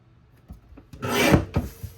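Card stock trimmed on a paper trimmer, a few light taps followed by one rasping slide of the blade that swells for about half a second, close and short, with no talk.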